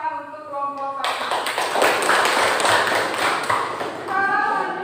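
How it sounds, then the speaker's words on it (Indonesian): Students in a classroom clap for a presenting group, a loud, steady patter of many hands lasting a few seconds between a teacher's speech before and after. "beri tepuk tangan untuk kelompok 1"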